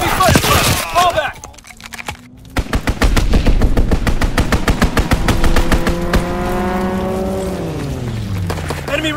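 Rapid machine-gun bursts crackle through a Call of Duty WWII beta match, a dense stream of loud shots with vehicle and engine-like tones rising underneath and game voices calling out between the firing.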